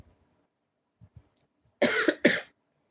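Two sharp, close coughs come in quick succession after a few soft, faint throat sounds, in an otherwise quiet indoor space.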